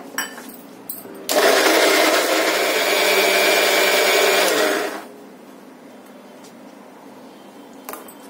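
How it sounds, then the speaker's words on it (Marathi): A kitchen mixer grinder whirs loudly for about four seconds while grinding roasted coconut paste with a little water for misal, starting abruptly and cutting off, with quiet room noise before and after. "आता आपण हे वाटण मिक्सर मधून थोडं थोडं पाणी घालून वाटून घेऊया"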